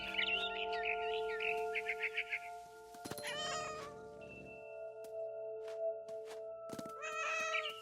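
A cat meows in the video game What Remains of Edith Finch: a couple of clear close meows separated by bird chirps and soft thumps over a quiet, humming ambient background.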